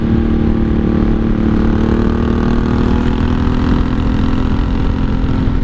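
A 1983 Honda Shadow VT750C V-twin motorcycle engine runs steadily under way, a loud, continuous rumble with a constant pitch and no speech throughout.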